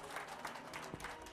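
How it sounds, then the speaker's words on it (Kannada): Audience clapping at an open village drama performance of the Ramayana in Karahalli, Devanahalli taluk: a steady, dense patter of many hands, fairly faint and distant, continuing throughout with no voices over it. "ಚಪ್ಪಾಳೆ ಶಬ್ದ ಬರ್ತಾ ಇದೆ"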